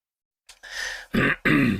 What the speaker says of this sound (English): I'll keep clearing my throat as well.